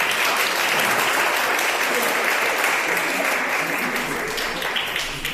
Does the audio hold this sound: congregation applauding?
yes